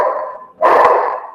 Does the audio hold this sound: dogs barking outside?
yes